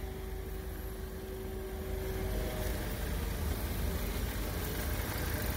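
A Chevrolet Malibu with an EcoTec engine idles in a steady, even low rumble that runs unbroken throughout with no talking.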